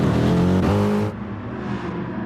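A race car in Gran Turismo Sport pulls out of the pits after a tyre change at Suzuka, its engine loud and steady, then dropping to a lower, quieter drone partway through.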